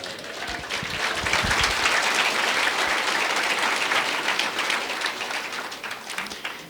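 A church congregation bursts into hearty applause for Christ Jesus, dense clapping building quickly and holding loud and steady throughout, with a few stray voices mixed in.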